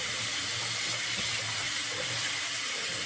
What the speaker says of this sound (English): Under running water, get it nice and damp.